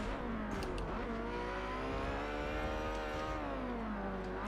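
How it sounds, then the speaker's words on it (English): Ferrari race car engine in a racing video game, a steady loud high-pitched drone whose pitch climbs and dips as it revs through gears, heard alone with no talk. "Come on, little Ferrari, we can do this."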